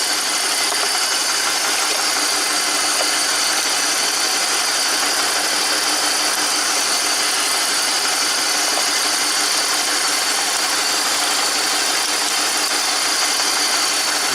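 Car engine idling with an ignition-coil misfire, a steady mid-pitched idle running alone and continuously, close to the microphone with no talking.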